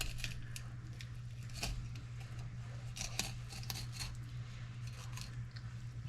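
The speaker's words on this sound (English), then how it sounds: "I can feel my blade grinding on the bone right there." Fillet knife cutting through the bones of a fresh trout, a faint scraping and crunching that comes in short clicks and bursts over a steady low hum.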